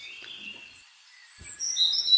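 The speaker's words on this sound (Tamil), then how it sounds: "அழகிய சின்னஞ்சிறு பறவைகள் சரணாலயம்" Small birds at a bird sanctuary give high, thin chirps and tweets, faint at first and then growing louder and busier near the end, with no talk over them.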